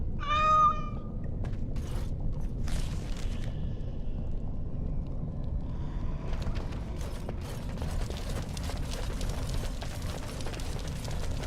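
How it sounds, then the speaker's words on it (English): Sir Pouncelot, a pet cat in the fantasy game Dragon Age: Origins, lets out one short, clear meow near the start, followed by ringing mechanical and ratcheting effects over a steady low ambient rumble. "He's a friend. And he's also a cat."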